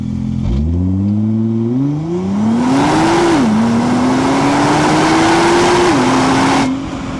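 A 2022 Nissan GT-R Nismo accelerates hard toward 130 km/h, its engine note rising steadily through the gears with brief dips at each shift, loud and close throughout with no talk.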